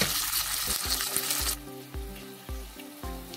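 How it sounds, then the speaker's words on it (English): Onions and peppers fry in a pot with a loud sizzle, broken by a series of sharp scrapes and stirring knocks that come roughly every half second, with no talking. "So my onions and peppers have been fried"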